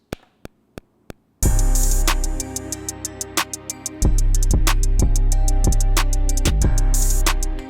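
A hip hop beat hook on an MPC Key 37 plays at full speed, without the half-speed effect, after a few sparse clicks; a loud, dense groove with steady punchy drum hits and a deep bass layer.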